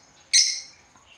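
A single sharp, high chirp from a pet lovebird rings out close by against near silence and fades quickly.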